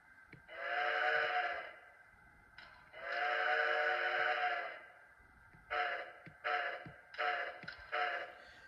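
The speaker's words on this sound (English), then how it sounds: "Now we're going to even listen to the whistle." An HO scale Athearn Genesis Southern Pacific MT-4 model locomotive whistle sounds two long, steady blasts, then four short toots in a choppy rhythm, thin and reedy with no voices.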